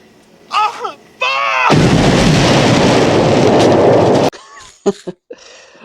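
Bomb explosion in a film, a sudden loud roaring blast that booms and rumbles for a few seconds before cutting off, with voices shouting just before and after.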